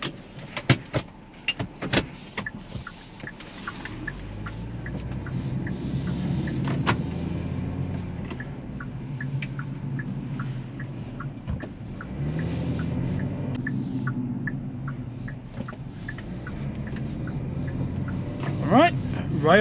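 A 2024 Kia Picanto GT-Line facelift with its small naturally aspirated 1.25-litre petrol engine pulls away, a low, steady cabin drone rising and holding, with scattered clicks and knocks from inside the car.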